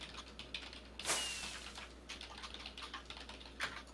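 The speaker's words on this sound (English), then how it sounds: "that's probably really loud typing" Loud typing on a computer keyboard during a Minecraft game session, with rapid clustered key clicks and a sharper clack, heard close and alone over a low steady hum.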